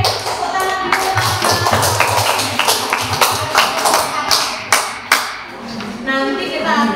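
A classroom of students claps together in a lively rhythmic burst, close and loud, with voices mixed in and a few thumps near the end.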